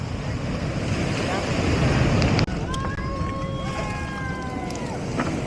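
Strong waves surging onto a beach at Cabangan, Zambales, a loud rushing wash under gusting wind, easing after a sudden break, with a voice speaking over it.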